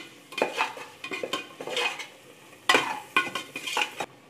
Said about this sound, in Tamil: தேவையான உப்பு இதெல்லாம் சேர்த்து நல்லா பச்சை வடை போக நல்லா வதக்கிக்கலாம். இது எண்ணெய் பிரிஞ்சு வரணும் அந்த மாதிரி வதக்கிக்கணும்.